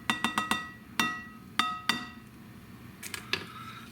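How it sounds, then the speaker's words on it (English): An egg is cracked with an easy egg cracker gadget, giving a quick burst of four sharp ringing clinks, then several more spaced taps, close and clear with no talking. "we're going to use our trusty easy egg cracker to make sure we crack the eggs properly"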